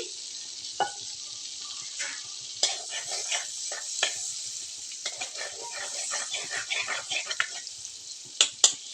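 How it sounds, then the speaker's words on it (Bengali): Butter melts in a pan for butter chicken, with white oil to be added, making a continuous bright sizzle and frequent small clicks and taps of a utensil stirring against the pan. "বাটারটা একটু গলে যাক তাহলে আমি সাদা তেলটা দিয়ে দিব"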